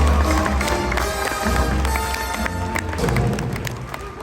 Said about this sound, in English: let's hear a round of applause for our volunteers